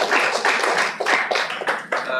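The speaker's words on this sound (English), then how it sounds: "So big round of applause for CIPM and the organizers." Clapping from an audience at a human resources debate competition semi-final, several bursts of hand claps at moderate distance.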